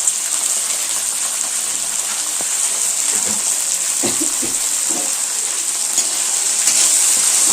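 Tomato chutney, Chhattisgarh style, cooks in a pan with a steady, bright, close sizzle and hiss, and a few soft stirring knocks now and then.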